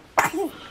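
A baby's single short, sharp sneeze bursts out, followed by a brief small vocal squeak, close by.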